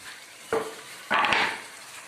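Finely chopped garlic drops into hot ghee in a pan for chicken haleem, setting off a short sizzling hiss in two bursts, the second louder and longer, close and with no talking.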